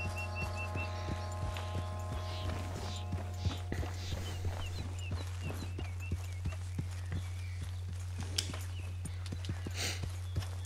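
Hooves of a horse clop at a steady walk in Red Dead Redemption 2, crisp, evenly spaced beats over a constant low hum and a faint background drone, with no talk.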